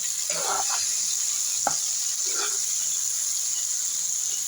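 Cooked dried fish (shutki) is stirred in a pan over a constant hiss of sizzling, with a few brief scraping strokes and a single sharp clink, close and moderately loud, no speech.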